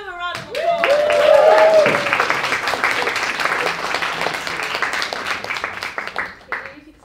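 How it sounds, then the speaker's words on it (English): Audience at a university magic society show applauds and cheers, a loud burst of clapping that swells early and then carries on steadily at a slightly lower level, with a few shouts mixed in. "Give him a round of applause."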